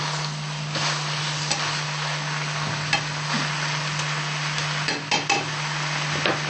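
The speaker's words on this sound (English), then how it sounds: "And saute it up." Yuba stir-fry with persimmon slices is sautéed in a pan, a steady sizzle under repeated scraping and clinks of a utensil stirring against the pan, close and busy with no talking.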